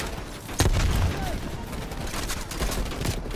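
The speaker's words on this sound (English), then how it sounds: "Getting shot from every angle right now." Video game gunfire coming from every side: a sharp loud shot, then a continuing crackle of scattered rounds and bursts, mid-distance, with a person talking over the shooting.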